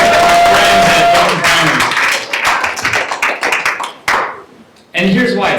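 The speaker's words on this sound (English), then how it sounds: "Let's give that an applause" An audience at a talk on American democracy bursts into sharp clapping that thins out into scattered claps, then a voice speaks briefly over the last of it.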